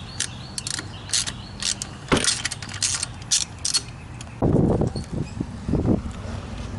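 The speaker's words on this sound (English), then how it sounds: "get your spark plug socket and pull out your plugs" A spark plug socket ratchets and turns as plugs are pulled from a 2000 Jeep Wrangler TJ engine during a tune-up, giving bursts of close clicking and creaking with metallic scraping.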